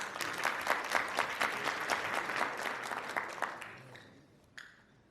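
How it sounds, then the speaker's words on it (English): Audience applause at a medical education conference on wellness and lifestyle medicine, a lively clatter of many hands that fades over a few seconds to scattered claps and then quiet. "give yourselves a big round of applause"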